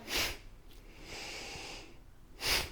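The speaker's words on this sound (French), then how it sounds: "On va juste inspirer par le nez et expirer par le nez de façon assez active" Two sharp, forceful nasal exhalations, close and fairly loud, bracket a softer, longer inhale through the nose during an active rapid yoga breathing exercise.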